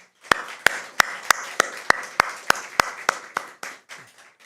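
A church congregation claps for the choir at a Nakwon Methodist service: a dozen or so loud, evenly spaced, sharp claps in a steady rhythm, fading out at the end.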